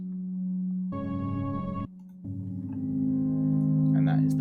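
Sustained synth pads drenched in heavy chorus hold bright, layered chord tones with a soft attack and long release, cutting out briefly before another lush chord swells and grows louder.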